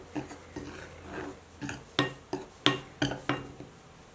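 A bowl of flour and a little salt is mixed by hand, giving about a dozen close, quiet knocks and clinks against the bowl in an uneven rhythm, with no talking.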